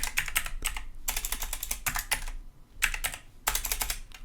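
Clicky keystrokes on an old computer keyboard in bursts of rapid typing with short pauses, close and fairly loud, no voices.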